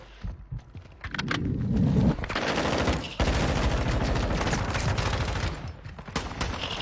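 Video game gunfire rattles in sustained automatic bursts, loud and dense, with a few sharp single shots at the start and tail.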